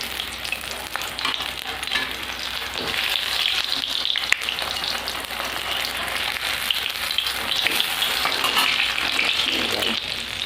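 Chilli chops coated in gram-flour batter frying in hot oil, a steady dense sizzle with crackling bubbles that holds throughout, close and fairly loud, with no talking.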